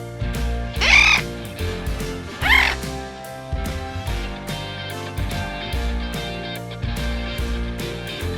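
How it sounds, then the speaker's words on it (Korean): A parrot lets out two loud, harsh squawking calls over steady background music, the second following soon after the first. "parrot, 앵무새"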